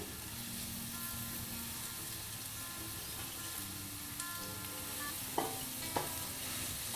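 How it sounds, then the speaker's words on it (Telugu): Ivy gourd frying in a pan with chilli powder, turmeric and ginger-garlic paste gives a steady, close sizzle, with stirring and two sharp spatula clinks near the end. "దీన్ని ఇట్లా పచ్చివాసన పోయే వరకు మంచిగా దొండకాయ, కారం, పసుపు అన్నీ ఇట్లా అల్లం వెల్లిపాయ పేస్ట్ అన్నీ మంచిగా వేయించుకొని"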